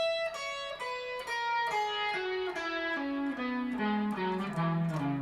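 An electric guitar with effects plays a descending pentatonic lick of distinct notes, each ringing clearly, stepping steadily lower toward the end.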